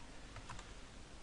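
PLC programming instructions typed on a computer keyboard in editor software, as a few quiet key clicks in quick succession over faint background noise.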